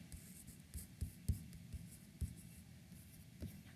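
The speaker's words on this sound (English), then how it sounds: "off to the side, we're going to write duplicate or duplication" Pen or marker writing the word duplication gives faint scratchy strokes and taps, close and quiet, with short irregular bursts as the letters are formed.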